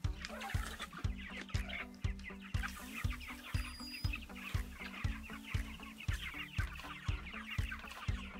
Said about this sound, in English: So these are a French bird. They're called a Hubbard, and they're designed and bred to be a lot slower growing than the commercial chicken breeds.